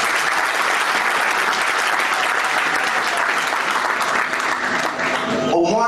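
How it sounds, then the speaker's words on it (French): Audience applause at a membership presentation, a dense, steady wash of many hands clapping at close range for the full length, with a voice starting to speak as it ends. "Applaudissez pour"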